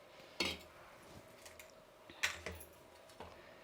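Okra frying in a little oil in a pan, with a spoon scraping and clinking against the metal in a few separate sharp taps and stirs over a soft, steady sizzle.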